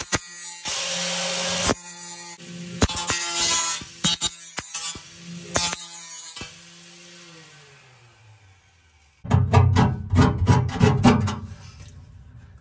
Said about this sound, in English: To remove any of the burrs that come as a result of the hole saw, I'm choosing to use this angle iron with a cutoff blade.